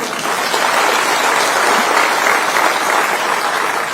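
Applause from an audience at a state health department event on sickle cell disease, a dense, steady clapping that stays loud and continuous throughout with no pauses.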